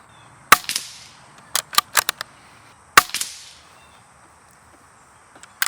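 Rifle shots from a Bergara steel-barrel rimfire bolt-action .22 fired outdoors, sharp cracks in small clusters with gaps between them and a distant chirp at the end.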